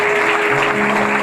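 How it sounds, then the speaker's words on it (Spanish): Loud, dense clapping from a church congregation, sustained and steady throughout with a faint tonal hum beneath it. "el fuerte aplauso al Señor"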